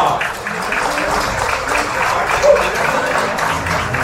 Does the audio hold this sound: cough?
no